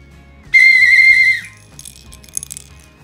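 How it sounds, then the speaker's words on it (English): A bushcraft survival bracelet whistle gives one shrill, steady blast of just under a second, loud and close, followed by faint rattling handling noises. "Oh yeah, this is also a whistle as well."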